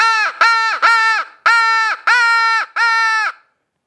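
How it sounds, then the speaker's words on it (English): Six harsh, nasal crow-call blasts blown on a hunter's call to provoke turkeys, loud and close, in an uneven rhythm of short caws with brief gaps, ending in silence. "So you hit them with a crow call."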